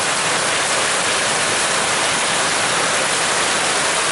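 Heavy rain and water pour off a clogged gutter in a steady, loud, dense rush that never lets up, with no voices over it.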